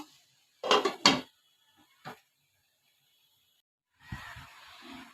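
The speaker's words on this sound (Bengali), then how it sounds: "এখন আমি ঢাকনা দিয়ে ঢেকে রাখবো।" A metal lid set down onto a cooking pot while prawns and taro roots simmer, giving two or three close clattering knocks followed by a lighter tap, then a softer rattle and a faint hiss of cooking.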